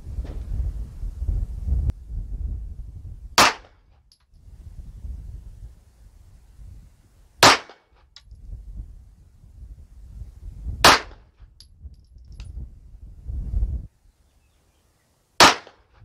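Sig Sauer P320 9mm pistol fired outdoors, with four sharp, loud single gunshots spaced a few seconds apart and wind rumbling between them.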